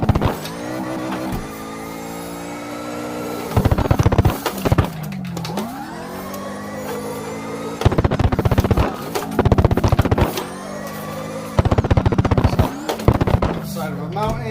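A car in CarX Drift Racing on the Nagao touge, engine revving and whining between bursts of loud tire squeal and scraping impacts, repeated rough collisions close up, with no voices.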